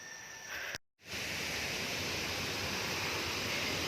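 Steady, loud broadband roar of a nearby waterfall, continuous apart from a brief dropout, with no voices over it.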